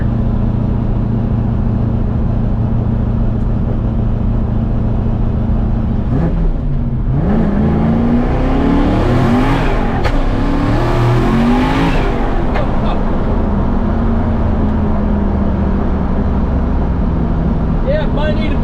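A turbocharged LS-swapped Mazda RX-7 (FC) with a Tilton twin-disc clutch pulls hard in second gear, engine rising loud and close through a rev sweep around the middle before settling back to a steady drone.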